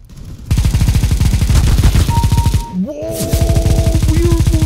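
Rapid automatic gunfire in the video game Counter-Strike, a loud, steady stream of shots that breaks off briefly and then resumes, with a short electronic tone in the middle.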